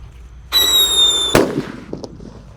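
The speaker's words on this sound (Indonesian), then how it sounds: "Lanjut di sini ada Happy Power 3 guys yang akan kita nyalakan. Kita masukkan di dalam tanah." Happy Power 3 firework pushed into the ground, a sharp whistling screech lasting under a second that ends in a loud crack, followed by faint crackles outdoors.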